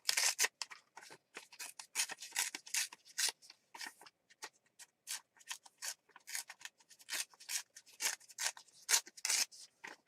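Scissors snip through paper in a mixed media collage session, a rapid irregular run of close, crisp cuts and rustles with short pauses between them, no voices.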